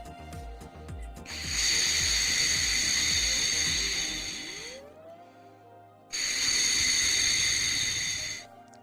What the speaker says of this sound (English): Put the mouthpiece on your lips